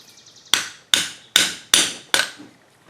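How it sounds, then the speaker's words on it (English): Hammer blows striking a punch to set rivets in an oilfield clutch lining, five sharp metallic strikes at an even pace of about two per second, close and loud after a faint ringing lead-in. "Take an appropriately sized punch."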